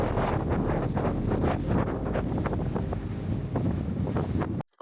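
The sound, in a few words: 30 knots of wind on the ocean aboard a sailboat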